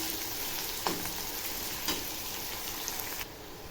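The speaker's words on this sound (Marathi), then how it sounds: "कांदा छान फ्राय करून घ्यायचा तेलामध्ये।" Chopped onion sizzles steadily in hot oil with curry leaves in a pan for a spinach and potato curry, a dense, even hiss with a couple of brief stirring scrapes, close up and with no voices.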